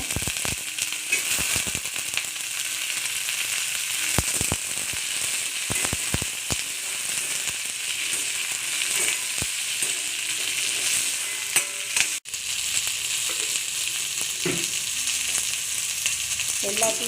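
Sliced eggplant sizzling and frying steadily in a hot pan with oil, a dense continuous crackle punctuated by sharp spits and pops, close and fairly loud throughout with no talking.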